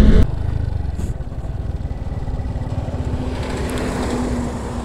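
Vintage Vespa scooter climbing an uphill road, its small engine chugging in a steady low, rapid pulse throughout, close and fairly loud with some rattle, no voices.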